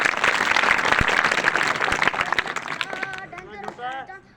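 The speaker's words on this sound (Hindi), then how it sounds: "ताली तो बजाओ इसके लिए।" An audience at a seminar on communal harmony at a school in Solki breaks into dense, sustained clapping that thins out toward the end as a voice begins speaking over the fading applause.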